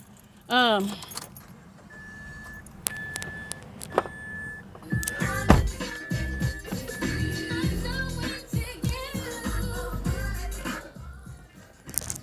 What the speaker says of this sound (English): Where's my keys?